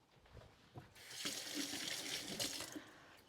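Hot water gushes from a kitchen tap, starting as a short trickle and swelling into a steady, close, hissing stream that runs alone for a few seconds.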